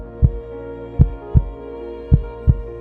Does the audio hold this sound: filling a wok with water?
no